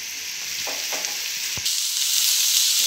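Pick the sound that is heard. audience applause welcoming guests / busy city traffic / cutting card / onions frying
onions frying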